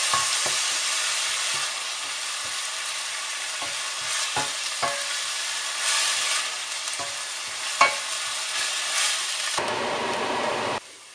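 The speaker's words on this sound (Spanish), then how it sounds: "cuando ya esté caliente le añadiremos la cebolla y el ajo y lo sofreiremos." Onion and garlic sizzling in hot oil in a pot, a steady frying hiss with repeated stirring scrapes throughout, loud and close, ending with a brief quieter stretch.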